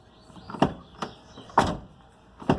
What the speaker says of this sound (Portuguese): é um barulho de, ó, coisa solta, parece que tem alguma coisa solta dentro